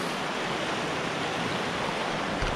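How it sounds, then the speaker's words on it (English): Kiwi Creek in the Kaweka Range rushes past close by with a strong flow, making a dense, even roar of moving water with no pauses. "So this is the world famous Kiwi Creek, by the way."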